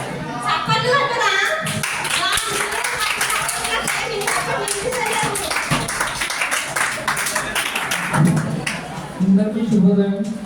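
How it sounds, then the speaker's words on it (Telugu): Clapping from an audience at a Telugu Language Day college event, a busy patter of hands over ten seconds with voices and other sounds mixed in. "చప్పట్లు కొట్టరా?"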